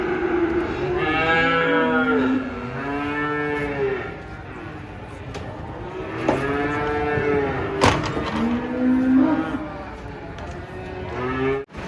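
Cattle unloading from a truck, several loud, close moos in long drawn-out calls with short pauses between them and some clattering movement in the background.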